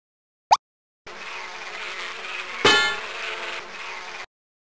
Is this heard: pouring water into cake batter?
no